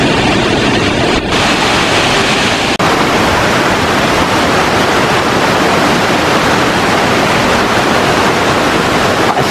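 Rushing water pours steadily down a mountain stream in the Auvergne volcanic hills, swollen after days of rain, a loud, constant broadband roar close by with no pauses.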